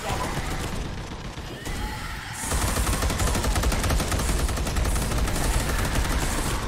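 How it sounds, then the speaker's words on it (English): Gunfire in the Space Hulk game, a continuous loud rattle of automatic weapons that intensifies partway through and keeps hammering steadily to the end, close and harsh. "There's some serious enemy DACA, but I kind of have to shoot over there."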